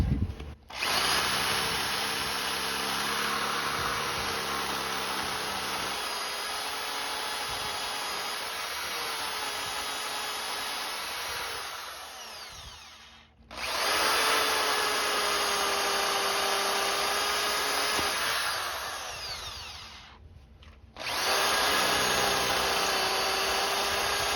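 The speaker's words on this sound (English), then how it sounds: "I want to be extremely careful not to drill through the disconnect casing into and through the oil pan." A power drill whines loudly and steadily in three long bursts, briefly stopping between them, with a harsh grinding edge as the bit bites into a Chevy Blazer's metal 4WD disconnect casing.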